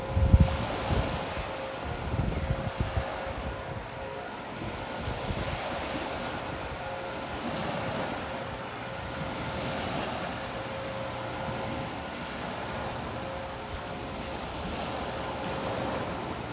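Surf rolling onto a beach in steady broad washes, with gusty wind buffeting the microphone at the start and a low, continuous roar throughout.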